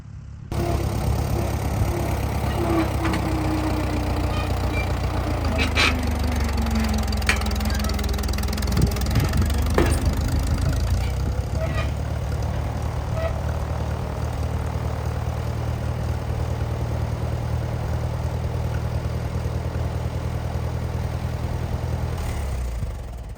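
A 1951 WD farm tractor idles on its own with a steady, rough, low engine note for over twenty seconds. The speed wavers slightly early on, then settles into an even rumble.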